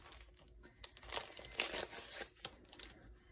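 A plastic package of planner stickers from an Umber & Gold planner kit is opened, giving close, quiet crinkling and crackling with a few sharp tearing bursts.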